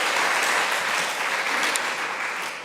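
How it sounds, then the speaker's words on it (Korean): A church congregation gathered for a lecture on theology claps in praise to God, a thick, even wash of many hands that sustains without pause and eases off slightly at the end. "영광의 박수 올려드리면 좋겠습니다"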